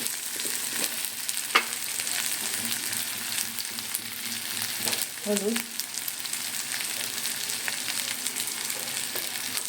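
Ginger-garlic paste and spices frying in a pan make a steady, close sizzle with a few brief scrapes of stirring and no talk.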